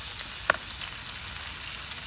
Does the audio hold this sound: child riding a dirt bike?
no